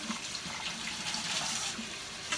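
Tap water runs steadily into a sink while dyed cross stitch fabric is rinsed under it, a continuous close splashing hiss with no one talking.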